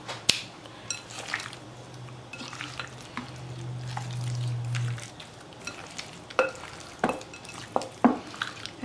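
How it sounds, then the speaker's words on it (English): Seasoned meat for Puerto Rican sancocho being stirred in a pot, a low sizzle with scraping and clinking of a utensil against the pot, several sharp knocks near the end, close and clear. "Just give it a little mix like this"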